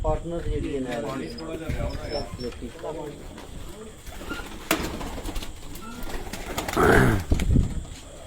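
Rooftop pigeons, males of a flying variety kept by a fancier, coo and stir close by under steady conversational talk, with a brief wing-flutter burst late on.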